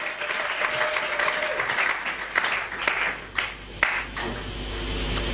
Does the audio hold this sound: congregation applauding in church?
yes